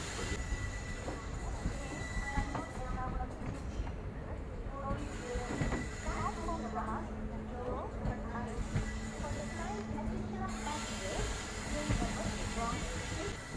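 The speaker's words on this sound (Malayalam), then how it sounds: "നമ്മളെ ട്രെയിൻ ഇപ്പം വളരെ സ്ലോ ആയിട്ട് തന്നെയാണ് കുറ്റിപ്പുറം റെയിൽവേ സ്റ്റേഷൻ്റെ പ്ലാറ്റ്ഫോമിലേക്ക് കയറുന്നത്" Kannur Ernakulam Intercity Express rolling slowly into Kuttippuram railway station, a steady rumble of carriages with faint wheel squeal and clatter, heard from inside the train, with voices in the background.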